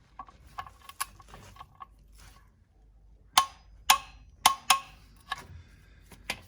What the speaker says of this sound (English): Now we're going to torque it up to 25 foot-pounds.